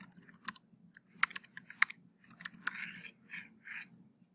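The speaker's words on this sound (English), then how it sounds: "I'm going to type in background textures." Typing on a computer keyboard, a run of crisp, uneven key clicks close up, with a few softer rattling strokes toward the end, no talk.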